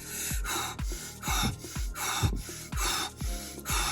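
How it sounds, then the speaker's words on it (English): Rapid, forceful breathing exercise before heavy weightlifting, sharp rhythmic breaths repeating about twice per second, close and loud with no talking. "I basically did like a little breathing exercise where I kind of breathe really fast"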